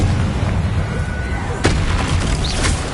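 Confringo spell blasts in Hogwarts Legacy hit with a sudden sharp crack partway through, followed by a few smaller popping bursts over a steady, noisy game background.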